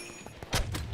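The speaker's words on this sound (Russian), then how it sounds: "выстрелы" Video game gunfire, a couple of quick muffled shots cracking in close succession over faint background game noise, with no talk over them.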